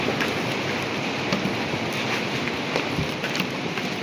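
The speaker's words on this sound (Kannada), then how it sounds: "ಮಳೆ ಬೇರೆ ಸ್ಟಾರ್ಟ್ ಆಗ್ತೈತೆ" Rain beginning to fall on the mountain trek to Kedarnath, a steady broadband patter with wind noise buffeting the microphone, close and continuous with no voices.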